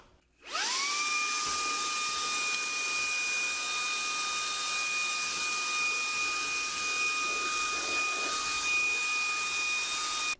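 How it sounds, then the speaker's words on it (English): A Shark Ion handheld vacuum cleaner switches on and runs steadily for about ten seconds, picking up spilled debris with a loud, high, even whine close by, and no one talks. "I'll use the handheld to vacuum up everything that I just spilled from"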